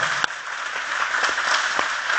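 An audience applauds loudly and continuously at a mimicry show, dense clapping filling the whole short stretch.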